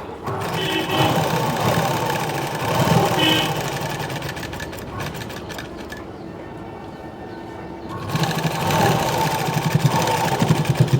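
A sewing machine stitches the side seam of a blouse in steady running bursts with a short pause midway, close and fairly loud, with a faint voice underneath.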